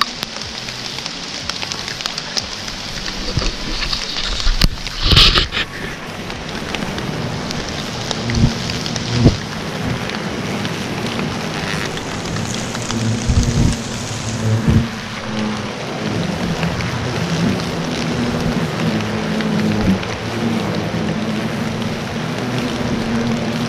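Steady outdoor rain at about ten degrees, a continuous hiss of drops on surfaces with occasional low rumbles and nearby knocks, heard alone without talk.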